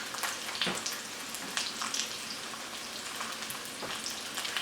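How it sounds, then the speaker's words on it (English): Onions frying in hot oil in a pan, a steady crackling sizzle with occasional louder pops, fairly quiet and close, without any talking. "I'm going to fry my onions"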